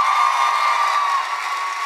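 A Comic Con panel audience answers a show of applause, a loud dense roar of clapping and cheering from a large convention crowd, sustained throughout.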